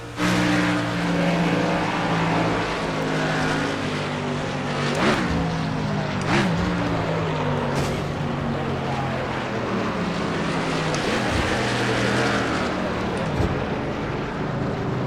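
Stock cars from the 2008 Car of Tomorrow set roar around the track in NASCAR Racing 2003 career mode, a steady loud engine drone with several cars sweeping past, under occasional speech.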